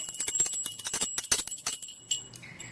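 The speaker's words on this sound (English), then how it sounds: "Can you identify what is this? That's the bell." A small hand bell rung for a children's sound identification game jingles rapidly and brightly up close for about two seconds, then fades into a softer ring.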